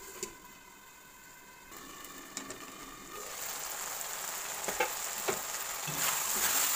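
Matar peas cook in a covered pan with a steady sizzling hiss that swells louder over time, with faint clinks and pops and no talking.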